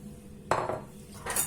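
Courgette batter being mixed in a bowl with a utensil, heard as two brief clinking scrapes against the bowl over a quiet kitchen background.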